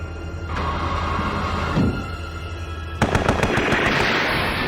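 Anime gunfire from a gun emplacement: a rumbling buildup followed by a sudden burst of rapid, sharp machine-gun shots, loud and close, clattering through the final seconds.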